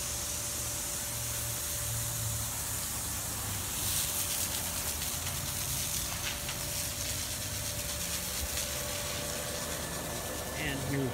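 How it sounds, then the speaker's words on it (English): A pressure-washing proportioner unit on a skid conversion sprays water with added street pressure, a steady loud hiss and rush that holds throughout with little change. "we were spraying over there with the additional pressure coming in from the street"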